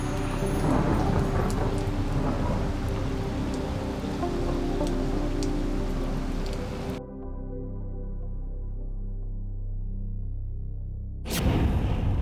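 Steady heavy rain with low thunder rumbling beneath it, cutting out abruptly partway through and leaving a quieter tonal hum before the downpour noise returns at the end.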